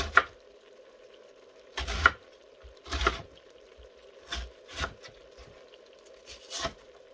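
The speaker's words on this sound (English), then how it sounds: "I usually just cut it into a sizable chunk and then" A knife slices through vegetables on a cutting board for a smoky veggie stew, giving about six sharp, fairly close chops spaced unevenly over a steady low hum, with no talking.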